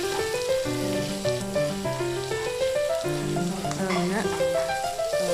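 Chopped tomatoes fry and get stirred in a pan, a soft, steady sizzle and crackle sitting under prominent melodic background music.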